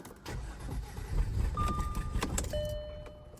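An Audi 3.0L engine with some spark plugs removed cranks and catches, a rough uneven churning that builds then settles into a low running hum, with faint warning chimes.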